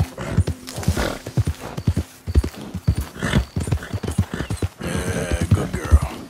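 A Grulo Dun Mustang horse in the video game Red Dead Redemption 2 gallops with a fast, rhythmic clip-clop of hooves close by, then lets out a long neigh near the end.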